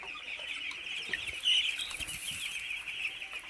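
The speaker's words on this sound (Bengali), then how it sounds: "মুরগিগুলো আল্লাহর রহমত ভালো আছে।" Eight-day-old chicks cluck and peep softly in a steady, high-pitched chorus, with faint rustling and a brief flutter midway and no talk.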